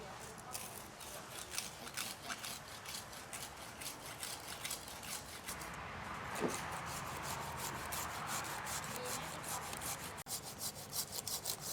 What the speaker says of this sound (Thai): แล้วเดี๋ยวเราจะเลื่อยเฉียง เพื่อให้ไม้ตรงเนี้ยมันดูมีเอวนะครับ